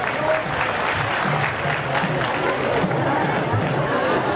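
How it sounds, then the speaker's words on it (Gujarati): A large crowd at a mass wedding applauds for a political leader, a dense, sustained roar of clapping mixed with crowd noise and voices, steady and loud throughout. "એકવાર અમિતભાઈ માટે જોરદાર તાળીઓ પડવી જોઈએ."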